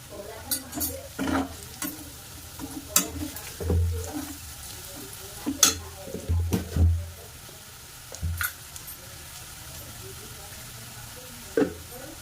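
Chili powder stirred into ginger-garlic paste frying in a pan for potato curry gives irregular scraping stirs over a low, continuous sizzle.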